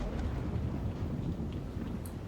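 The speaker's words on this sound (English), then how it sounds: "there's really good audio design with all the thunder and dripping sound effects" Deep rumbling thunder over steady rain in a short film, a dense, continuous low roar with faint scattered drips, no voices.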